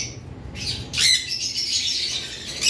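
Opaline lovebirds chirp and squawk close by in a busy, continuous chatter, shrill calls overlapping throughout with no pauses.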